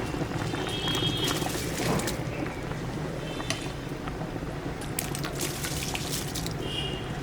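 Water for chicken biryani rice bubbles at a steady rolling boil in a pot, a constant churning hiss with occasional small pops and clicks, no talking.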